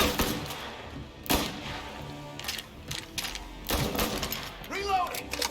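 Gunfire during a gunfight in the Mafia Definitive Edition video game: a few sharp, loud shots crack out at irregular intervals over a busy bed of game noise and mechanical clicks.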